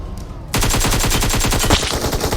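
Automatic AK rifle fire in PUBG Mobile: after a brief quieter moment, a loud, rapid, evenly spaced burst of shots rattles on for nearly two seconds, close and sharp.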